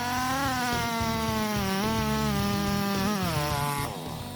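Large chainsaw with a bar up to 105 centimeters cutting through a big-diameter log, its engine droning loud and close with a steady buzzing tone that shifts pitch under load, then drops off near the end.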